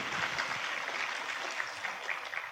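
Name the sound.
audience applause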